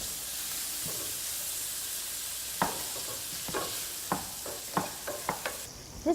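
Peppers and tomatoes frying in a pan, a steady bright sizzle running throughout with a series of sharp stirring clatters and scrapes in the second half, close and moderately loud with no talking.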